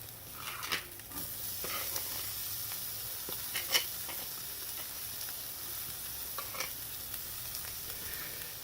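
Porcini mushrooms land in a hot pan and sizzle steadily, a bright continuous frying hiss broken by small pops and crackles throughout, with no talking.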